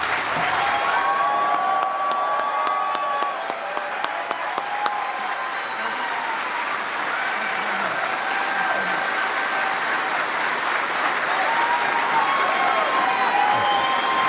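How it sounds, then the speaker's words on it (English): Sustained applause from a large crowd at a military air force base, dense clapping with scattered cheers that continues steadily without letting up. "please join me in a very loud and warm reception for the 45th President of the United States and our Commander-in-Chief, President Donald"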